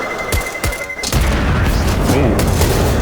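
Gunfire in a professional Counter-Strike match on the Cobblestone map: two quick sharp shots, then a heavier burst of booming, crashing game sound that stays loud to the end.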